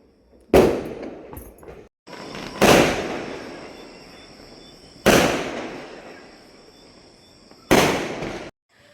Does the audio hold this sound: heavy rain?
no